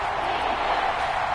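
A Kansas City stadium crowd at a football game, a dense, steady roar of many voices with no clear peaks or breaks.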